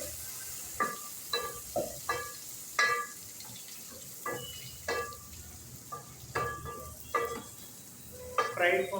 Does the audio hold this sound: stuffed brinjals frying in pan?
yes